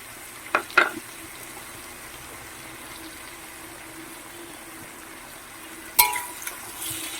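Chopped onion frying in a pan with potato and pumpkin, a steady low sizzle running throughout, with a couple of sharp stirring scrapes near the start and again toward the end.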